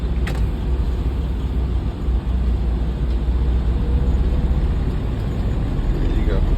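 A truck with a 10-speed manual transmission, driven by a student on the second day of training in inclement weather, makes a steady, loud low engine rumble. It holds continuously through a turn.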